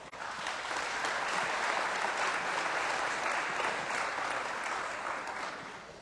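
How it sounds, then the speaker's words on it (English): An audience at a community meeting about a wildfire gives a steady round of applause, dense and even clapping filling the room for several seconds before tapering off. "Can we please give them a round of applause?"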